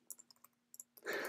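Light, quick clicks of typing on a computer keyboard, several soft keystrokes in an uneven rhythm, close and quiet, ending in a louder burst of noise.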